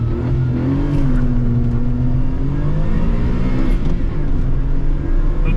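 A 1995 Suzuki Alto Works RS-Z kei hot hatch launches hard from a standstill, its small engine revving up and climbing through the gears in a loud, close, rising whine.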